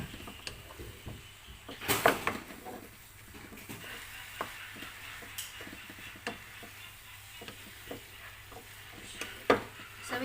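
Pancit bihon rice noodles with vegetables and soy sauce being stirred in a pan: soft scraping and tapping of a utensil with faint sizzling underneath, a few sharper knocks, fairly quiet and without talk.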